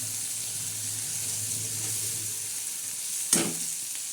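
Tomatoes frying with onion in a pan give a steady close sizzle and hiss, with a soft stirring scrape throughout and one sharp clatter near the end.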